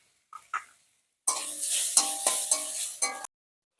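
Grated potato, whole cumin and grated ginger hit hot oil with a loud burst of sizzling, broken by a few stirring scrapes, after a couple of quiet clinks at the start.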